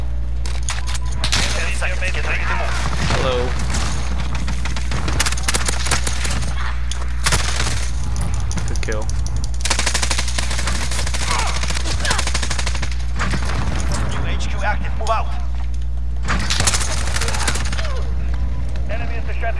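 MP7 submachine gun fire on the Shoothouse map of a shooter video game: rapid bursts of automatic fire, loud and near, repeating throughout with short gaps, over a constant low hum and scattered game sounds.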